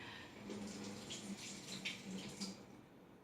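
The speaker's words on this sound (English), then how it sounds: "let me just wash my lemon." A lemon is rinsed under running tap water in a kitchen, giving a faint, steady splashing stream with small irregular spatters as the fruit is turned under the flow.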